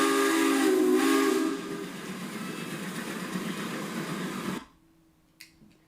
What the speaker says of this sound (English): I love the sound of that whistle